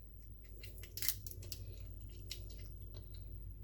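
Kitchen scissors cutting down the center of a lobster shell for lobster rolls, a few close crisp snips and crunching cracks of shell, fairly quiet and with no talking.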